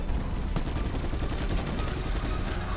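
Rapid automatic gunfire in the video game Call of Duty: Black Ops 4 during a boss fight, a dense stream of sharp shots under continuous noise, with faint voices mixed in.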